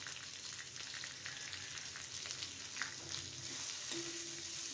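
A medium-sized onion frying in a spiced masala in a pan for Hyderabadi mirchi salan, giving a steady close sizzle with a low hum of background noise and no voices.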